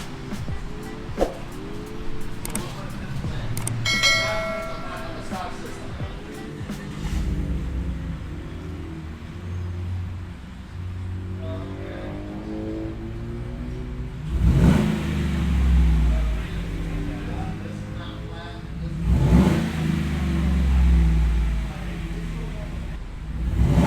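A Chevy Silverado V8 with Flowmaster exhaust and resonator delete rumbles and revs with a deep, throaty note, rising in a couple of loud bursts over steady idling, with some talk in the background.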